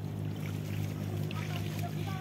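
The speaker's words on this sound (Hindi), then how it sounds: "इधर देखिए ट्रैक्टर चल रहा है" A tractor engine drones steadily in a muddy village paddy field, a continuous low mechanical hum that stays even throughout, with faint voices in the background.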